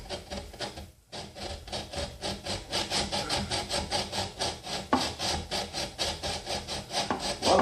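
Hacksaw cutting through metal bolts, a fast regular back-and-forth rasp of repeated strokes after a brief pause, close and clear with no talk.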